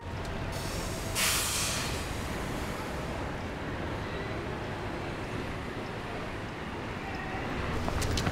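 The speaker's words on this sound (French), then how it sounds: "Pour la toute dernière fois, Maiko va prendre le métro du retour" A metro train runs with a steady, loud broadband rumble and hiss filling the whole stretch, a brief sharper screech near the start, and no voices heard over the continuous ride noise.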